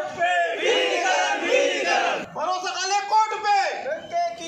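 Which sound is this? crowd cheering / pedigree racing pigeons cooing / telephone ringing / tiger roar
crowd cheering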